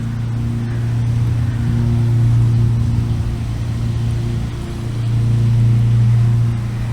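A Zodiac MX6/MX8 automatic pool cleaner runs in a pool, giving a steady low humming drone that swells and eases slightly as it moves forward again after reversing.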